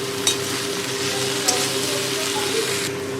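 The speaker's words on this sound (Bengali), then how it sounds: "এবার এই সমস্ত সবজিগুলোকে ভালো করে আমি ভেজে নেব।" Vegetables frying in a pan with salt, turmeric and cumin powder, a steady close sizzle with a few sharp stirring clicks and a faint hum underneath, no talking.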